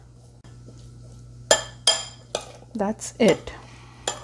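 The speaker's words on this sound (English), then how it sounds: "Just a quick stir." A metal spoon stirs hot bhaji frying oil in a pan, giving several sharp clinks and scrapes against the metal at an uneven pace over a low background hum, with a brief spoken remark.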